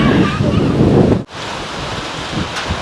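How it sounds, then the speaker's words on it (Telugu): Strong wind roars steadily into the microphone with a rushing, buffeting noise near a bridge at Laknavaram during rain, briefly cutting out before continuing. "ఫుల్ గాలి వస్తుంది"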